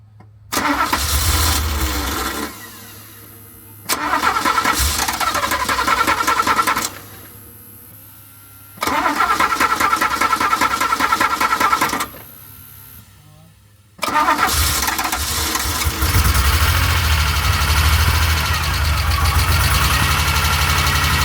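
A DeLorean car, under repair for a fuel filter change, cranks and fires up several times in a row, with loud engine bursts separated by short pauses and a longer idle at the end, with voices in the background.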